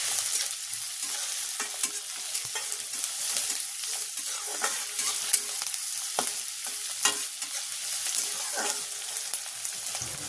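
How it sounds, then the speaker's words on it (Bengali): Onion stirred and frying in a pan for chire (flattened rice) pulao, a soft steady sizzle broken by repeated scraping taps of the spoon, fairly quiet and close, with no talking. "এবারে নাড়াচাড়া করে ভেজে নেব।"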